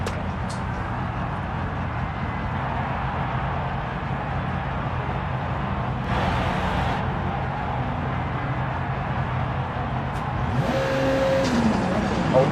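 A racing car engine in a video game drones steadily at high revs, loud and continuous, rising slightly toward the end.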